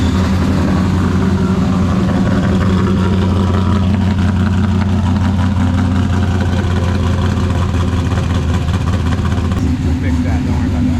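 A 1970 Dodge Charger restomod with a stroked 383 V8 runs at a steady, loud, rumbling idle close by, with no pause or change across the whole stretch.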